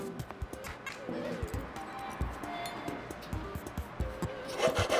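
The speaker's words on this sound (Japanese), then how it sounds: "細部をヤスリで整えて" Metal file rasping over small silver chain bracelet parts during handmade jewelry work, a steady run of scraping strokes with scattered light taps and clicks, fairly close, ending in a brief brighter burst.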